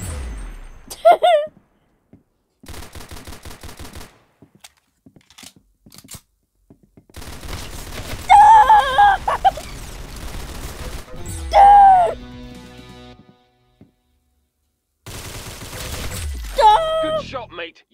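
Roblox Arsenal gunfire comes in loud bursts of rapid automatic shots and single cracks, separated by short pauses. Game effects sound in the mix and voices cry out over parts of the action.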